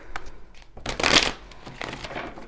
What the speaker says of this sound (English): I feel like I gotta shuffle here.